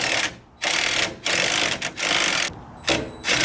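Coilover bolts and nuts on a Nissan 240sx S13 being tightened, loud close mechanical whirring in short bursts with brief gaps between them.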